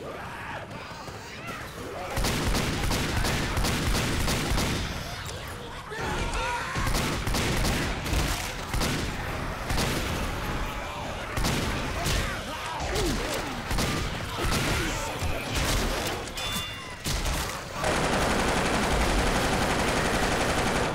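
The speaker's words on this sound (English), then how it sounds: "Another machine gun." Rapid machine gun fire in a video game, dense bursts of shots rattling almost continuously and loud throughout, with voices talking over parts of it.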